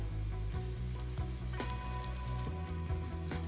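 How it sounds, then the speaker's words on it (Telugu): Tomato pieces fry in oil in a pan, a moderate continuous sizzle with scattered soft crackles and spatters, alone with no talking. "ఇవి సాఫ్ట్గా, టమాటా ముక్కలు సాఫ్ట్ అయ్యేంత వరకు బాగా వేయించుకోవాలి."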